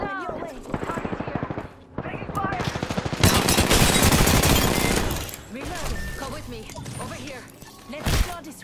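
Rapid automatic gunfire in the Apex Legends battle royale game, dense bursts of shots crackling close by, intensifying midway, with a sharp loud burst near the end and voices talking over the action.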